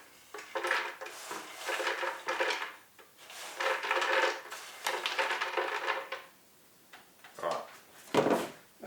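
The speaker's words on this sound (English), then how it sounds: "So we'll just scoop 100 grams into the blender." Crunchy peanuts are scooped into a blender with repeated rattling, clattering bursts of nuts and utensil against container, several quick scoops followed by a couple of brief knocks, fairly close but soft.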